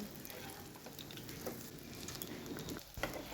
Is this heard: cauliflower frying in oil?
yes